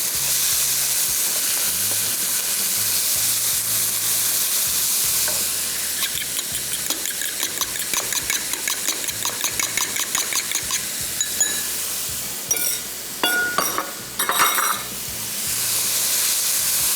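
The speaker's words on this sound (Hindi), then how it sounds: "चिकन को तकरीबन 5 से 6 मिनट पहले फ्राई करेंगे" Chicken sizzling and frying in a pan for a creamy chicken pie, a steady hiss with stirring and clattering bursts of a utensil scraping the pan, fairly close and loud with no talk.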